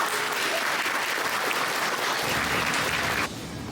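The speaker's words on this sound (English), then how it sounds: "So we give them a quick round of applause." An audience at a five-year anniversary celebration gives a quick round of applause, steady and fairly soft, with dense clapping that stops abruptly near the end.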